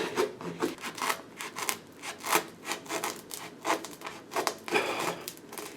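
Hard bread being sawed with a wine cork tool, a rough, rhythmic scraping and rasping in repeated strokes, fairly close and steady, with no talking.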